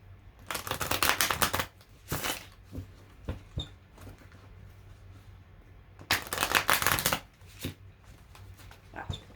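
Oracle cards are shuffled in two bursts of rapid riffling, with scattered taps and shuffles in between, on a squeaky table, close and fairly quiet.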